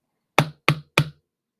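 Three evenly spaced, crisp taps on a Magic Mixies toy cauldron, close and clear against silence, with no talking.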